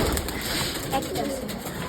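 Giribaj pigeons coo softly in short bursts, half buried under steady background noise, with a person talking nearby.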